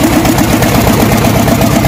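A Kirloskar diesel engine on an L&T 752 double drum roller, with white smoke from one cylinder head's exhaust, runs loud and close with a steady, throbbing low-frequency chug.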